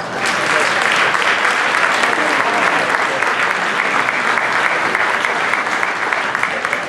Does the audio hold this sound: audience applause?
yes